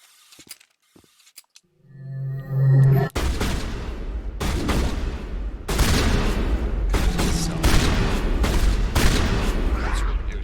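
Shotgun blasts in a shooter video game: a quiet stretch with a mechanical ratchet-like cue, then a heavy boom followed by a run of loud, repeated blasts in quick succession, with a voice talking under them.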